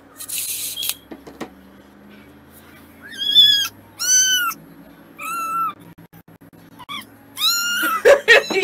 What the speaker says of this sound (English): Oh, you got pretty cats.